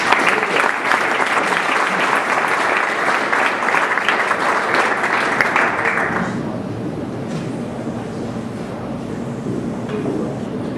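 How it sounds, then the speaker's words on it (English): A live audience applauds for a speaker, steady dense clapping close by that thins and fades after about six seconds into scattered claps and room murmur. "Give it up for Judy."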